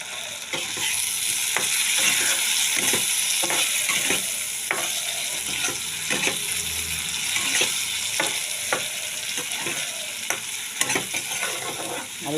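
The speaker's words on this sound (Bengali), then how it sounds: "এবার আলুগুলো দিয়ে দেবো তেলের মধ্যে, মশলার মধ্যে দিয়ে আলুটা ভালো করে কষিয়ে নেব।" Potatoes fry in hot oil with spices in a pan, giving a loud, continuous sizzle broken by frequent sharp scrapes and knocks from stirring.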